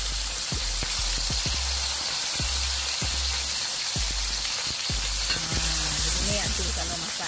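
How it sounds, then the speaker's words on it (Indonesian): Browned onions frying in a pan after tomato goes in, a loud, steady sizzle close up, with repeated stirring knocks and scrapes on the pan. "Bawang sudah bertukar warna, nanti masukkan tomato ah."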